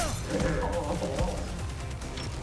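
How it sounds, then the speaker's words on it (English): An enemy's shield slam in the video game Expedition 33, a heavy crashing thud of impact backed by clanking mechanical noise and swelling game effects, moderately loud and dense over a couple of seconds. "Just the one shield slam."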